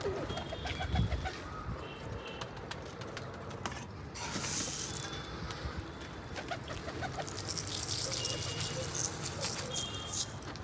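Pigeons cooing and calling steadily as they feed after being let out, a dense chorus of soft coos with occasional flutters and creaks, continuing without a break and close by.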